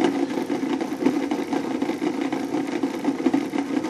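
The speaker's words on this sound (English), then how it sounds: "made it a 24 volt circuit, the motor self-started on its own" Bedini pulse motor running on a 24-volt circuit at about 175 RPM, a steady low buzzing hum with rapid rhythmic pulsing, moderately quiet and close, with no voices.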